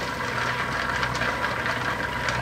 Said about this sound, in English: You can hear the rock tumbler running in the background.